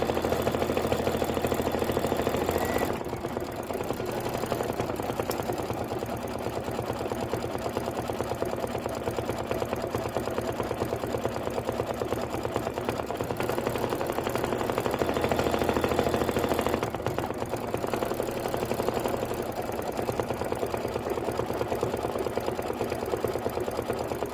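Ten-needle embroidery machine quilting a block, a continuous rapid mechanical chatter with a couple of brief dips, running steadily at moderate loudness throughout.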